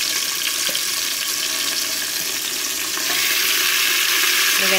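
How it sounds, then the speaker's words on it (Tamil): Onions, green chillies and mint leaves fry in a pan for mutton biryani, making a dense, continuous hiss close by that grows slightly louder toward the end, with faint stirring. "இந்த வெங்காயம் பச்சை மிளகாய் இதெல்லாம் நல்லா வறந்துட்டு மட்டன் சேர்த்துக்கலாம்"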